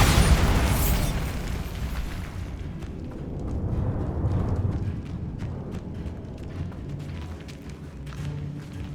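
A Bombarda spell goes off in the video game Hogwarts Legacy with a loud, close blast right at the start, then a rumbling roar that fades gradually under lingering ambient game sound.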